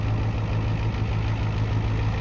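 A 1990 Ford F250 diesel engine idles with a loud, steady low chug and clatter, even and unbroken throughout.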